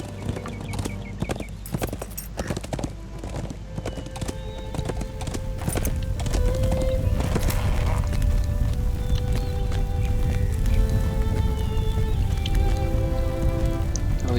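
In Lord of the Rings Online, a ridden horse gallops with a dense, rapid drumming of hooves, loud and close, joined by a rain-like patter and what may be a horse's whinny, continuing steadily throughout.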